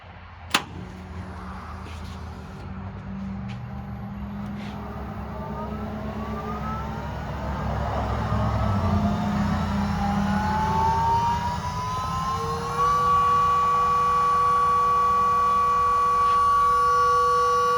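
Electric power steering motor driven by an Arduino controller, giving a soft start: a whine that rises gradually in pitch and steadies into a sustained tone, alone with no talk, preceded by a brief click.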